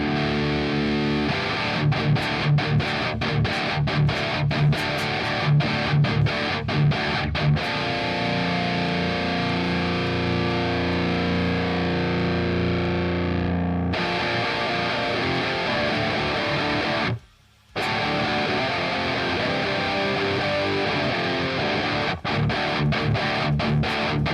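Distorted electric guitar runs through an Aurora DSP Laboga Mr.Hector amp sim with a DMN cabinet and no pedals, playing tight, heavy chugging riffs and sustained chords, loud and continuous with one brief silent gap.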